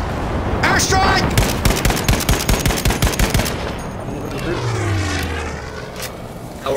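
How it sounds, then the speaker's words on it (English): Battlefield 5 combat during an airstrike: rapid machine-gun fire rattles loudly in a steady stream, then an aircraft roars past with a falling, sweeping drone, with voices heard around the noise. "Whoa, here it goes! Airstrike!"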